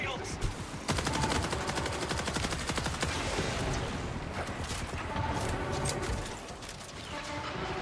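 Dense rapid gunfire from enemies in the video game Borderlands 4, sustained bursts of automatic shots filling the whole stretch, loud and close, with a brief lull near the end.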